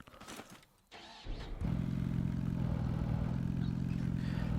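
A tractor in the video game Scrap Mechanic starts with a short clatter, then drives on with a loud, steady, low engine rumble.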